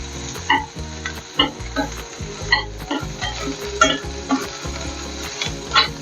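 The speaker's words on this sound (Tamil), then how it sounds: "ஒரு 2 பச்சை மிளகா போட்டு நல்லா வதக்கலாம்." Shallots, crushed garlic and two green chillies sautéing in a pan, a steady close sizzle with soft stirring bursts, under a layer of rhythmic background music.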